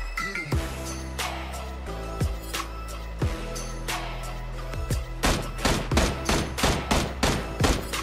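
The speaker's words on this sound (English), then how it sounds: "Don't get shot, Summit" Rapid bursts and single sharp gunshots ring out in PlayerUnknown's Battlegrounds, loud and close, building into a steady volley of repeated shots toward the end.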